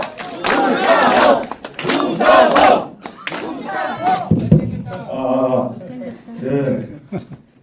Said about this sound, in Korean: 제 지역구인 서대문 각도에서도 이런 환호성을 들어본 적이 없어요.